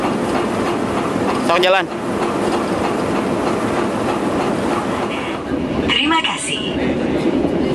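Sri Tanjung passenger train rolling along the rails, a steady loud rumble and rattle filling the whole span, with people talking over it and a brief squeal of metal partway through.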